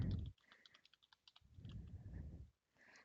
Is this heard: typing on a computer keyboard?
yes